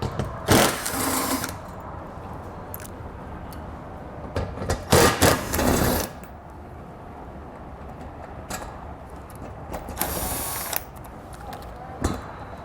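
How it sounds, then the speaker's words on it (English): Several short bursts of ratcheting and clicking as an 8mm socket backs out rock guard screws on a 2021 Jeep Wrangler, separated by quiet pauses with faint background hum. "on either side we're going to have two screws which we'll remove with an 8mm socket."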